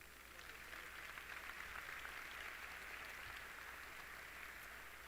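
Steady applause from a congregation during a Baptist church service, faint and continuous, a soft rolling wash of clapping that fills the room without breaks.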